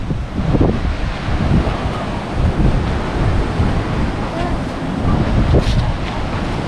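Sea waves surge onto a beach in Chanthaburi, Thailand, a loud, close rushing roar that swells and recedes in slow pulses, with heavy wind buffeting the microphone.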